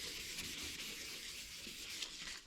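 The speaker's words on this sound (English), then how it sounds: "I started today dry sanding, and it started bothering me pretty quick, so today I switched to a little squirt bottle" Wet sanding a Nissan 350Z headlight lens by hand with sandpaper and a squirt bottle of water, a soft, faint, continuous hiss of rubbing strokes close up.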